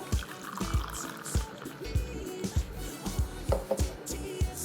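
V60 pour-over coffee is poured out of a glass decanter in a soft, uneven stream, with gurgles and small irregular splashes repeating over several seconds.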